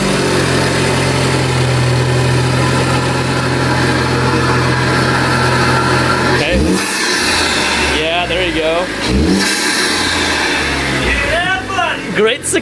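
A car engine idling steadily with a low hum just after a cold air intake install, running alone for about six seconds before people start talking over it.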